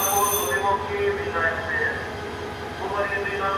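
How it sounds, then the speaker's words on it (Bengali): An intercity train pulls into a junction station platform in Bangladesh, a steady low rumble with squealing wheels and rising tones heard under a person talking nearby. "আপনারা দেখেন এই তো ট্রেন আসছে"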